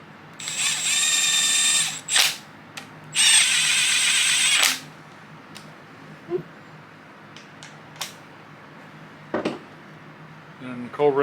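A power tool drives down the two factory bolts on a secondary chain tensioner during a timing gear and cam install, heard as two close whirring bursts followed by scattered clicks and tool knocks.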